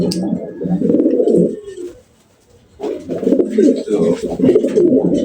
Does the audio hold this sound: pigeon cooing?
yes